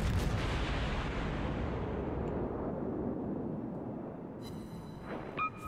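Heavy warship guns firing in World of Warships aboard the Hindenburg, a loud booming artillery salvo that rolls and fades over several seconds, followed by faint game interface chimes near the end.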